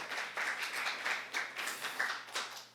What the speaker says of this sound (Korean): 우리 임원단들이 올 한 해 잘 섬길 수 있도록 우리 박수로 격려하도록 하겠습니다.